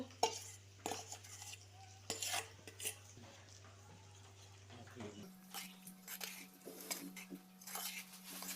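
A utensil scrapes and clinks against a metal pan in irregular strokes as thick masala is stirred, over a steady low hum.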